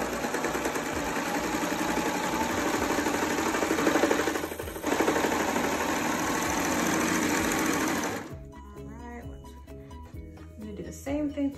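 A serger with a single needle stitching fabric pieces, running loud and fast with a steady mechanical whir for about eight seconds before stopping, followed by lighter handling noises.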